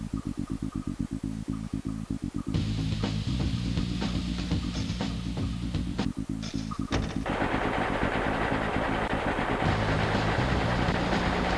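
Rapid bursts of gunfire from a Nintendo 64 Spider-Man game, loud repeated shots in quick rhythm over a steady looping background, continuing throughout with dense mechanical rattling.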